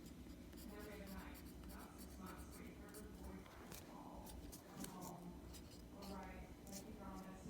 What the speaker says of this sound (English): here I'll write that down.